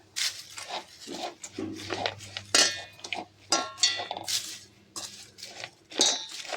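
Okra fry being stirred in a pan at home: quiet, irregular clinks and scrapes of a metal spoon against the pan, with a few sharper taps in between.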